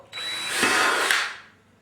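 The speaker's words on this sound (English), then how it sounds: "And drill" A power drill drilling a pilot hole for a printer stand whirs in one short, loud burst of about a second, then winds down to quiet.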